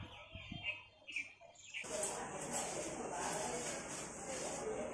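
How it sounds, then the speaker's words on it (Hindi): Faint chirping of a flock of small birds outdoors, scattered tweets giving way to a steady hiss of background noise. "ये चिड़ियों की झुंड"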